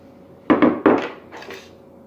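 Pizza dough ingredients dumped into a bowl of warm water, heard as a few close, loud knocks and thumps in quick succession, followed by a softer rustle, with no talk.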